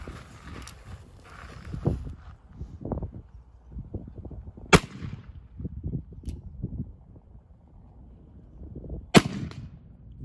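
Two sharp, distant cracks from an 1851 Navy .36 caliber percussion revolver fired at 80 yards at a cowboy action shooting range, spaced several seconds apart over low rumbling background noise.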